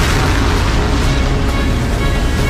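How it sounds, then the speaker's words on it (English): A massive stellar explosion as a supernova erupts: a loud, sustained deep rumbling boom that fills the whole stretch with dense low-end roar and no letup. "This creates one type of supernova in a massive stellar explosion."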